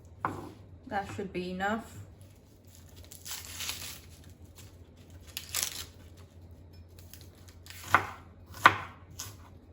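Potatoes are cut with a knife for a Guyanese fried bora and potato dish, giving a few crisp chops and knocks on a board, two sharp strikes near the end. A person talks briefly early on.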